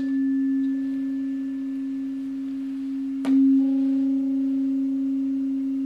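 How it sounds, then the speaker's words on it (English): A struck tuning fork rings a steady pure tone, joined by a sharp click partway through as another fork is struck, adding a second faint tone; close and alone, no talk. "Here I've got two tuning forks, and if I strike one of them"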